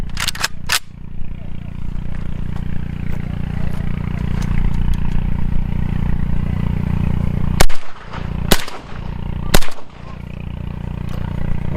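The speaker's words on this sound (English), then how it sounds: "So I'm gonna shoot a few rounds semi-auto, and then we'll flip a switch and go full auto." A suppressed AK rifle fires outdoors as a few sharp, separate reports stand out over a steady low background rumble.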